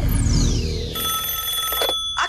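Cartoon telephone ringing: a falling whistle-like tone gives way to a bright, sustained electronic ring that cuts off, then briefly resumes, loud and alone without talk.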